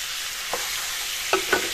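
Chicken pieces stirred into masala in a hot pan for a chicken and brinjal curry, giving a close, dense sizzle with a few sharp scraping knocks from the spoon near the end. No voices.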